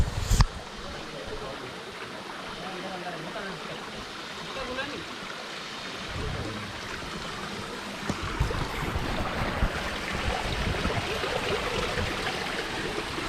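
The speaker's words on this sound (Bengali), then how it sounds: "বড় বড় বড় ঝর্ণা।" Rushing water at Sonaichhari waterfall in Mirsarai, Chittagong, Bangladesh, a steady broadband roar filling the scene throughout and growing slightly fuller in the second half, with no clear speech over it.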